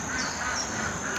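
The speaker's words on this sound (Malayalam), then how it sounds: "എൻ്റെ സൗണ്ട് കേട്ടിട്ട് നമ്മുടെ താറാവുകൾ കിടന്നിട്ട് നല്ല കരച്ചിൽ" Ducks quacking in a noisy, continuous chorus, fairly close, with the steady hiss of rain underneath and no talking.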